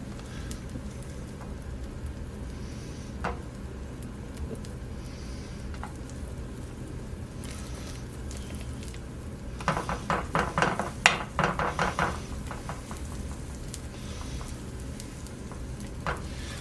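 Zucchini pancake batter sizzles faintly in a pan preheated on medium heat, a soft steady crackle with a burst of louder spattering and scraping partway through.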